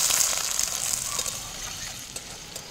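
Potatoes hit a hot pan of oil and sizzle with a bright hiss that is loudest at first and slowly settles, heard close with no talking.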